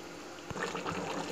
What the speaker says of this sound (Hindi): पानी डालते हैं। क्योंकि हम थोड़ी सी ग्रेवी चाहिए ना, ये हमने पानी डाल लिया है।